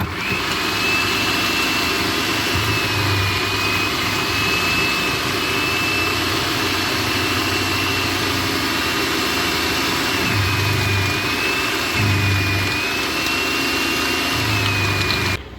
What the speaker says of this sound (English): If you're not sold on the electric food processor, let me show you this real quick.